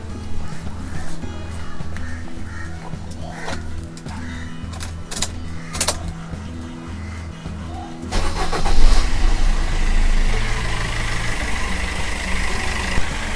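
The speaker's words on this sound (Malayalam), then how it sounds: "ഇനി നമുക്ക് സ്റ്റാർട്ട് ചെയ്ത് ഒരു അരമണിക്കൂറല്ല ഒരു 10 മിനിറ്റ് സ്റ്റാർട്ട് ചെയ്ത് വയ്ക്കാം." A Maruti Swift engine cranks and fires, then settles into a steady rumbling idle, with a louder burst partway through before continuing at a constant close hum.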